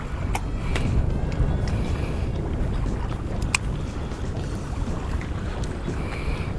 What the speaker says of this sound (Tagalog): Sobrang lakas ng current at ng hangin